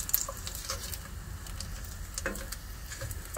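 Food sizzles steadily in a hot pan while being stirred, a continuous close crackle and patter with small ticks from the utensil and no talking.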